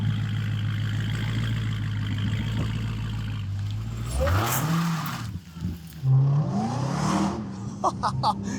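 A Dodge Hellcat muscle car engine idles with a steady low rumble, then revs up loudly several times with rising and falling pitch, sharp bursts near the end, on a cold day.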